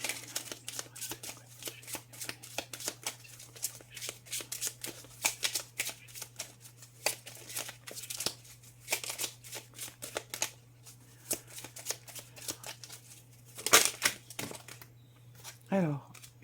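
Oracle cards are shuffled by hand in quick, papery riffles, with soft repeated flicks and slaps that run steadily and close to the listener, ending with a couple of sharper card taps.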